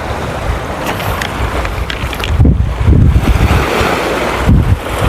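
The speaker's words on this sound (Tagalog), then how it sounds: "Nakakatakot. Laki ng alon." Heavy ocean waves surge and crash close by, with gusty wind buffeting the microphone and a couple of louder swells.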